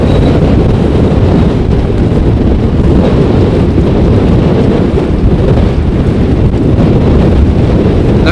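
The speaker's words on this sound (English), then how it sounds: "despite the wind blowing quite hard" Strong wind roars and buffets the microphone outdoors at Amsterdam Schiphol airport during a storm, a loud, constant low rumble with no voices.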